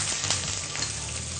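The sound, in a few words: onions frying in oil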